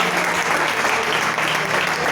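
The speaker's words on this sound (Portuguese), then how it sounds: "Aplauda o Senhor com forte." A church congregation claps together in a steady, dense round of applause during a worship service, sustained throughout with no pauses.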